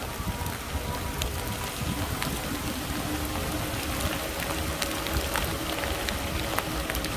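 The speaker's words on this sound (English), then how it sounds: "Wind blowing, knocking that rain off those trees." Rain pours outdoors during a wet ride on a Lectric XP electric bike, wind shaking water off trees: a constant close hiss of falling drops with scattered sharper patters striking nearby surfaces.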